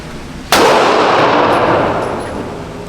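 A single loud, sharp gunshot at an indoor gun range, cracking suddenly and then leaving a long reverberant roar that slowly fades in the enclosed room; no speech.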